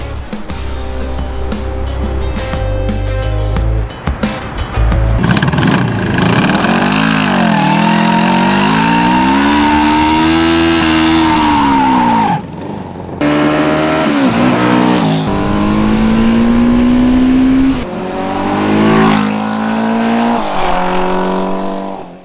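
A Honda CB500 brat-style custom motorcycle revs and pulls away, its engine note rising and falling through gear changes, loud and close at first, then continuing with further throttle sweeps.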